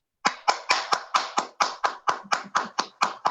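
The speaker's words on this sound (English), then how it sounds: "And give one last round of applause for our wonderful bingo caller, Silver." Applause for a bingo caller at an online wildlife conservation celebration: about thirteen crisp, evenly spaced handclaps in a steady rhythm, close and clear, with no talking.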